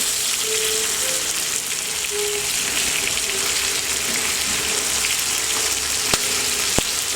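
Sliced onions frying in a pan on high heat for a Persian barberry rice dish, a loud continuous sizzle with a couple of sharp clicks near the end as they are turned.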